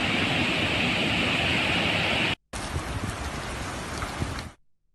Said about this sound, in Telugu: ఇప్పటికే గుజరాత్, మహారాష్ట్ర, కేరళలో విస్తారంగా వర్షాలు కురుస్తున్నాయి.